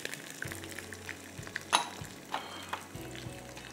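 Sliced onion sizzles in hot oil with curry leaves, a quiet steady frying hiss broken by scattered soft pops and a few clinks of a utensil against the pan.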